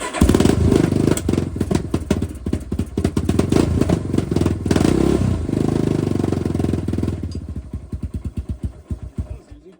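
A 1996 Yamaha Warrior 350 ATV engine, leaking fuel, runs loud and close with rough, clattering revs. Near the end it sputters in uneven pulses and dies out.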